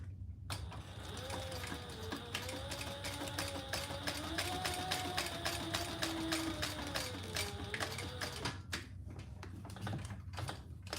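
Sewing machine stitching a leather card slot for a leather piece, a steady rapid mechanical stitching rhythm running nearly throughout with a faint continuous motor whine, stopping near the end.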